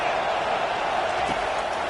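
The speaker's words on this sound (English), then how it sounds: "Decibels rising as the crowd gets behind this defense on 3rd down." Stadium crowd in a Madden football video game roaring behind the defense on third down, a steady, dense wall of loud cheering noise throughout.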